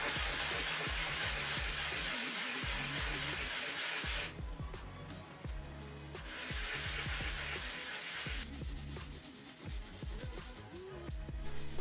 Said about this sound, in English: I sanded each of the pieces down.